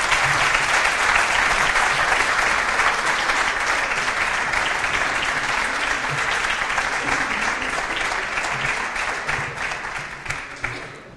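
An audience at a World Water Day event applauds, a loud, sustained burst of clapping from a full room that holds steady and thins out near the end.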